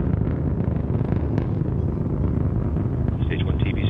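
Antares rocket at full thrust during the NG-19 launch, a loud, steady broadband roar filling the whole clip with constant rumble and no letup.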